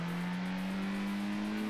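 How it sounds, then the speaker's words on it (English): A racing car engine in the PS1 game Ford Racing holds a steady drone that creeps up slightly in pitch, loud and close, with no talking. "We're getting into a faster car now."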